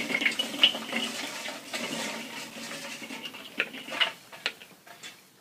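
Partly lit hot charcoal briquettes are poured out along one side of a grill for smoking ribs, a loose rattling clatter of tumbling lumps with scattered sharp clinks, close and fairly loud.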